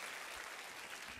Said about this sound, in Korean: 우리 다시 한번 김영욱 선교사님에게 뜨거운 박수로 축복하고 환영하겠습니다